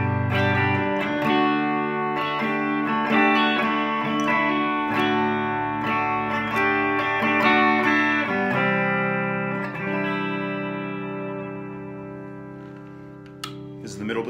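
A Harley Benton electric guitar on its bridge pickup plays through a Bugera V55 amp, giving loud, distorted chords and notes that ring out in sustained phrases, with no voices heard.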